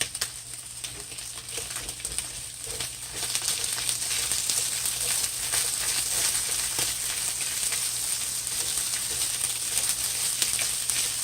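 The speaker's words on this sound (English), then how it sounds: "Now add my onions." Onions hit hot oil in a pot for a saltfish and tofu rundown, a steady close hiss of sizzling that swells after a few seconds and holds, with no voices.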